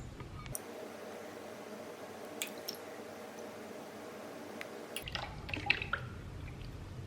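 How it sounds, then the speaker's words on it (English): Two cups of milk pour into an ice cream mix of heavy whipping cream in one steady liquid stream lasting about four seconds, then stop, leaving a few faint drips and rustles. "Next we're gonna add the milk. And we need 2 cups."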